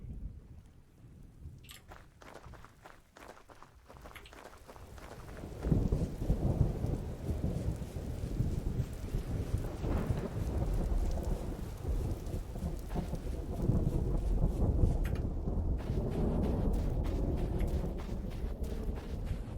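Thunderstorm in the survival video game Vintage Story, with lightning striking and burning grass: steady heavy rain hiss with deep rolling thunder that swells louder about a third of the way in and stays strong, no talking.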